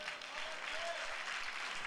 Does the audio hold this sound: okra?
no